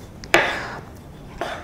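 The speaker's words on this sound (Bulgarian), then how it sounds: "Нарязваме домата." A knife slices through a tomato: two distinct cuts, each a crisp strike followed by a short scraping slide.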